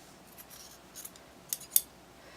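Scissors snip away excess seam allowance on a small dragon plush, a few crisp, close cuts in quick succession with quiet rubbing of fabric between them.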